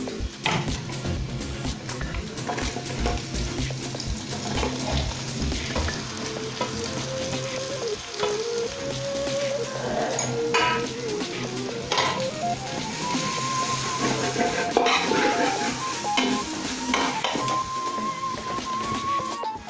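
Onions frying in a pan with garlic for homestyle chicken biryani, a steady loud sizzle with stirring scrapes and clinks running throughout, no voices.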